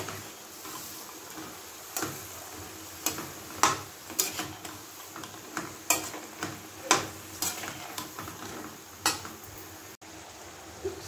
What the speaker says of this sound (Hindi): इसमें सब्जी ऐड करेंगे, तोरी की सब्जी, और इसको भी मसालों के साथ अच्छे से मिक्स कर लेंगे।